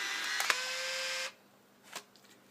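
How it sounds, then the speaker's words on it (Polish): A Fujifilm Instax mini 10 instant camera ejects its dark slide with a loud whirring motor buzz that stops abruptly, followed by a faint click or two in near silence. "I w tym momencie wyjeżdża nam dark slide"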